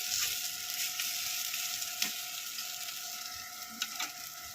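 Radish fritters (bora) fry in oil on a flat tawa, producing a steady, dense sizzle with occasional faint pops and light scraping, close and even.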